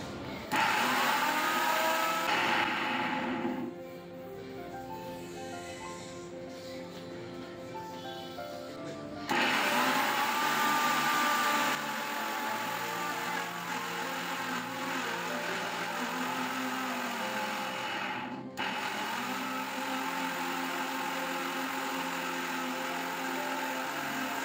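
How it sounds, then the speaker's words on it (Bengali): An electric blender whirs through a full jug of watermelon chunks for juice, a loud motor drone that drops in pitch and level as the load shifts, then surges again in bursts and runs steadily with no talking. "এখন আমি ব্লেন্ড করে নিব।"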